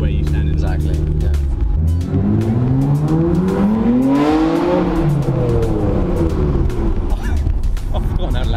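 A 500HP Nissan Skyline R33 GTR being driven, its engine loud and close with rising and falling revs across the run, under ongoing talk.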